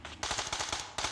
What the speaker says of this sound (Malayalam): വെടിവെക്കുന്നു മേലെ